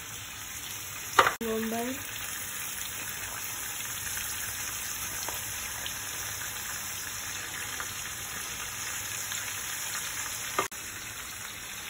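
Garlic and red onion fry in a pan for Indonesian fried rice, a steady, even sizzling hiss throughout, marked by a sharp utensil knock near the start and another near the end, with a brief spoken word.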